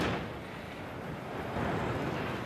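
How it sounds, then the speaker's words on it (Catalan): A bomb planted in a street in Gandia in 2001 goes off, leaving a dense, roaring wash of broadband noise that swells slightly and sustains throughout, with no voices. "D'esta manera esclatava esta bomba situada en un carrer de Gandia l'any 2001"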